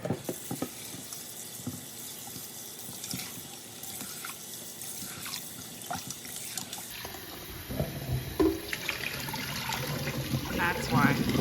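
Tap water runs into a kitchen sink while raw pork is rinsed, a steady close splashing stream that grows louder and fuller partway through, with a voice talking over it.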